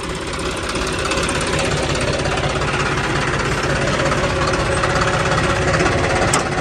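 A John Deere 5405 tractor engine runs steadily at around 2000 RPM, a loud, continuous, rough mechanical rumble with a rapid knocking pulse, close up and without speech.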